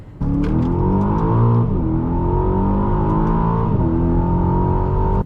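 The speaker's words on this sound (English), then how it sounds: "The V8 in this thing is so loud." A deep V8 engine of a 2021 Aston Martin DBX SUV rumbles loudly and steadily, revving up in a couple of rising surges, close and continuous with no talk.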